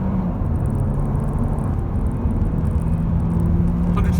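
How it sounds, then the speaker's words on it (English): A VW Golf TSI 1.2 held at full throttle in first gear, its engine a steady loud rumble with a rising tone heard from inside the cabin, no talk over it. "So first gear, we're going to floor the car,"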